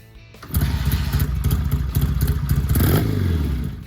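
A Triumph Bonneville T140 motorcycle engine fires up after a brief quiet start, then settles into a loud, close, throbbing rumble with a pulsing beat and a short rise in revs near the end.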